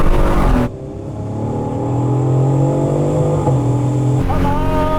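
A Supra Gen 4 making about 700 hp and a BMW M3 pull hard in a rolling drag race from 50 mph, a loud sustained engine drone with a rising pitch. Voices talk excitedly at the start and end.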